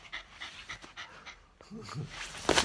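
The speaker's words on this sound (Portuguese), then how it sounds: "É o cachorro." Small pet dog panting and snuffling close by while chasing after a little shoe indoors, with a brief sharper burst at the end; no talk over it.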